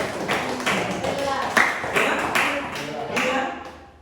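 A classroom of students claps in applause during a religious lesson, a steady run of repeated claps close by, with voices talking over them.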